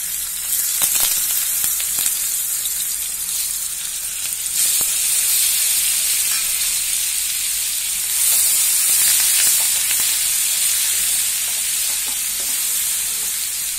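Onion and tomato frying in hot oil for a tempering, a steady loud sizzle and hiss running throughout with faint stirring, no voices.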